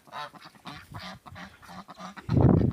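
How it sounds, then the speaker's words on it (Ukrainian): Ducks and geese bathing by the water quack repeatedly in short bursts nearby, followed by a louder, harsher honking cry from a goose at the end. "Качки гуси купаються"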